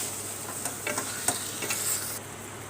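Food sizzles steadily in a hot pan while a spoon stirs and scrapes through it with a few light clicks, close up.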